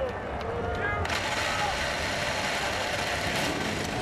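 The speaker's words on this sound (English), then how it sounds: "Drivers, start your engines." IndyCar race cars fire up at the Milwaukee Mile in 2024, their engines catching about a second in and settling into a rough, continuous idle rumble. A voice speaks over the engines.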